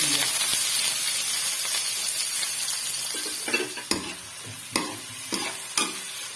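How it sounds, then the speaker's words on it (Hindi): A large chopped onion hits hot mustard oil for a fish curry, giving a loud, close hiss that gradually settles into frying, followed by several sharp stirring knocks of a spoon against the pan. "तो मैं डालती हूँ प्याज"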